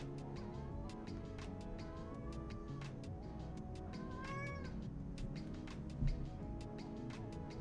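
A cat meows repeatedly, its rising and falling calls sitting over a constant low hum and faint ticking, with one soft thump near the end and no speech.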